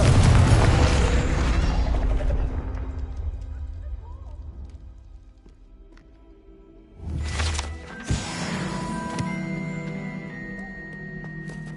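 A Confringo spell blast in the Hogwarts Legacy game, heard as a loud booming burst at the start that fades over several seconds, followed by a second sharp impact and crackling rumble later on.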